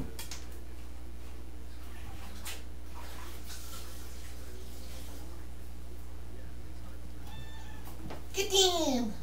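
A kitten lets out a single short meow near the end, following a quiet stretch of faint room sounds and light scratching while painting on canvas is under way.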